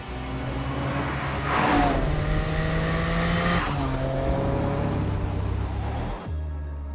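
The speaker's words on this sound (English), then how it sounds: "The 218 mile an hour Bugatti EB110 Supersports." A Bugatti EB110 Supersport supercar engine roars steadily and loud, rising in pitch as it revs, with a high whine over the top before dropping back near the end.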